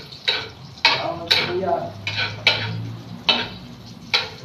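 Garlic fries with peanuts as a spatula scrapes and clacks against the pan in repeated strokes, each stroke over a soft sizzle.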